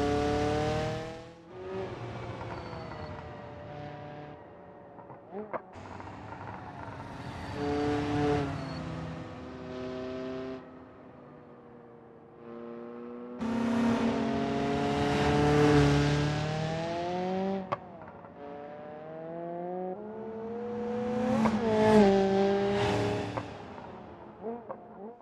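A race car in BeamNG.drive on Hirochi Raceway howls through repeated runs up the gears, each loud engine surge climbing in pitch before dropping at a shift, with short gaps between pulls.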